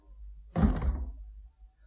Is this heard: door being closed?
yes